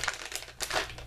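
Plastic toy packaging bags crinkling and tearing as Skylanders Spyro's Adventure figures are unbagged by hand, two close bursts of crumpling with a short lull between.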